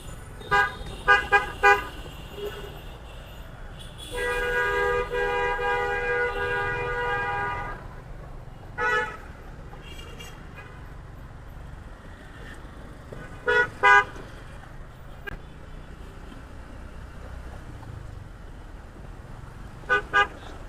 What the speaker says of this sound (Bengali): অযথা হর্ন বাজাচ্ছে, তখন থেকে হর্ন বাজাচ্ছে